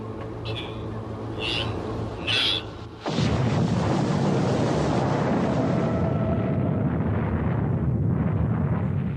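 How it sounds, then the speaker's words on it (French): The Trinity atomic bomb test of 16 July 1945, a 20-kiloton blast in the New Mexico desert, arrives as a sudden roar after a few quiet seconds and then rumbles on loudly and continuously before slowly thinning. "Les caméras filment sous tous les angles cette explosion de 20 kilotonnes"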